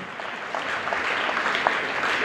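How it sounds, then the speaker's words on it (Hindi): Short, fairly distant round of applause from a school audience honouring a teacher, a soft continuous patter of many hands that swells slightly midway. "उनके लिए एक बार जोरदार तालियां होनी चाहिए"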